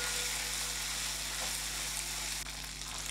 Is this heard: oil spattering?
yes